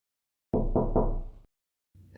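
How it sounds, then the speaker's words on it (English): Three quick, heavy knocks strike a bedroom door in an even rhythm, loud and close, then a short muffled thud follows after a pause. "3 distinct knocks woke me from my slumber sometime later in the night."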